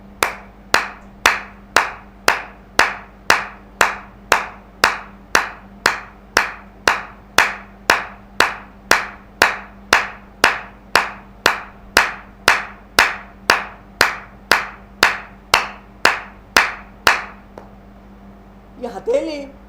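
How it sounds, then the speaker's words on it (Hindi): Hand clapping done as a yoga exercise for paralysis, about thirty loud, crisp, evenly spaced claps in a steady rhythm over a low hum, ending in a brief pause and a few soft rustles. "ताली किस प्रकार से हमको ताली बजानी है"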